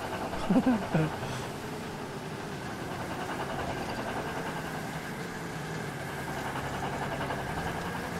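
A car engine in Mafia: Definitive Edition labours steadily at full throttle, a continuous low drone that holds without a break. A brief voice sound is heard near the start.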